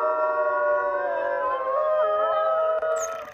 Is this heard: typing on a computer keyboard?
no